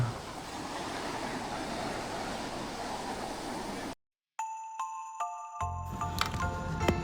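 Sea waves rolling in at Guliakhali beach, a continuous broad wash of surf and wind for several seconds, then a brief dropout followed by tonal jingling and ringing sounds.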